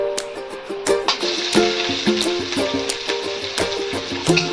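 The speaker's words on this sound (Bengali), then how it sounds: "পেঁয়াজটা কিছুক্ষণ আমি এইভাবে ভেজে নেব" Chopped onions sizzle steadily in hot oil with a bay leaf and whole cumin seeds, with a spatula tapping and scraping the pan now and then.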